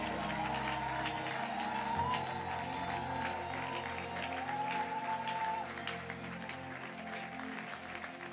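A church congregation applauds to welcome pastor Flarin Kanto: sustained, dense clapping from a large crowd in a reverberant hall, easing off slightly toward the end, with a faint tonal sound running beneath it.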